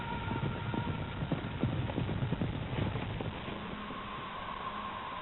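Spanish horses gallop with a rapid, rhythmic clip-clop of hooves, moderately loud and slightly muffled over a steady wash of noise, with no voices.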